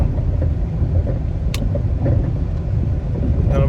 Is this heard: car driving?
yes